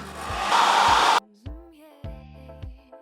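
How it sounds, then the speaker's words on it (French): A hair dryer blows with a loud whooshing roar for about a second and then switches off, followed by soft musical notes. "Mon sèche-cheveux parce que j'en ai marre."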